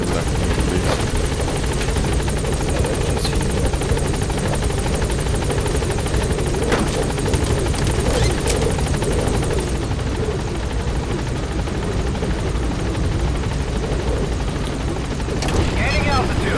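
The Pequod helicopter in Metal Gear Solid V hovers close with a loud, steady rotor chop and engine drone, while voices talk over it.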